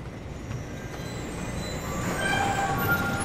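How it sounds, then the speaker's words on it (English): A train in the video game Bendy and the Ink Machine rumbles along with a low, steady rolling drone that grows slightly louder, with faint metallic squeals from the wheels. "Choo-choo. Oh, the train."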